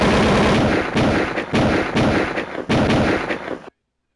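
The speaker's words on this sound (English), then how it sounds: "That's a gunshot." Repeated gunshot sound effects, about five sharp loud blasts at irregular intervals layered over a dense music backing, ending abruptly.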